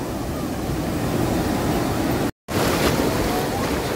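Surf at Puri beach rolls in as a dense, steady wash of breaking waves mixed with wind noise, broken by a brief moment of total silence before the roar resumes.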